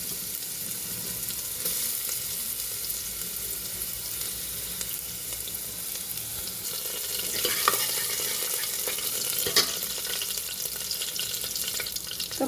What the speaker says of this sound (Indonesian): Aku goreng.